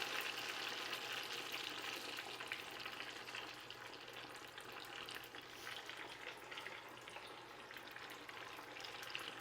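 Potatoes deep-fry in rendered beef tallow in a pot at around 300 degrees, giving a steady, hissing sizzle with crackling bubbles that holds evenly throughout and has no talk over it.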